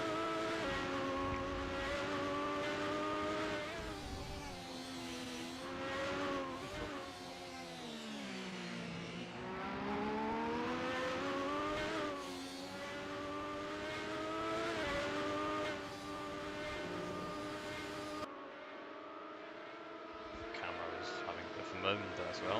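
Race cars on a circuit during a CCT round, engines rising and falling as they brake and accelerate, a loud continuous roar with shifting pitch, under a commentator speaking throughout.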